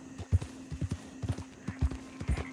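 Horse hooves clip-clop steadily in Red Dead Redemption 2, a rhythmic run of close, distinct footfalls over a low game hum with no talk.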